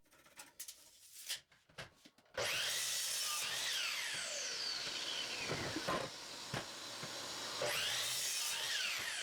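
A power saw cuts hard softwood 2x6 boards in half, starting abruptly after a few quiet knocks and running steadily loud and close, with the pitch dipping and rising as the blade bites through the wood.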